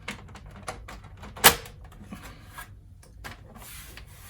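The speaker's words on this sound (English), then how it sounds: "Finally, I close the machine by just pressing it down." A Commodore 64's plastic case is pressed shut onto its tabs, making soft rubbing and shuffling sounds with one sharp snap in the middle.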